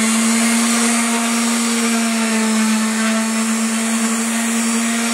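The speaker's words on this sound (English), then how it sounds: "I'm going to just sand it off." A power sander works plaster off the handle of a drywall or plastering tool, giving a steady, even motor whine that runs unbroken and loud throughout.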